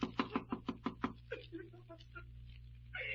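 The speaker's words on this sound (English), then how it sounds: "guess it won't hurt to rap on the door." Several sharp raps on a door in an old radio mystery drama, about seven quick evenly spaced knocks close by, followed by faint voices and room noise.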